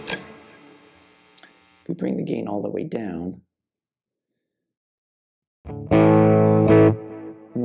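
Electric guitar plays through a Lekato Blues Breaker-style overdrive pedal with the gain turned all the way down. A ringing chord fades out, a voice speaks briefly, silence follows, then a loud, full chord is strummed and sustained up close.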